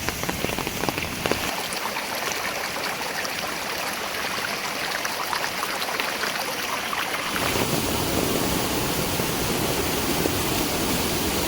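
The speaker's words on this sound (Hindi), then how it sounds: "अपने पास के गधेरे में, जहाँ पे बारिश का पानी इतना ज़्यादा आ चुका है, पूरा ओवरफ्लो हो रहा है" A rain-swollen mountain stream in Uttarakhand, overflowing after heavy rain, rushes in a steady, loud, continuous roar that grows fuller and heavier partway through, with no voices.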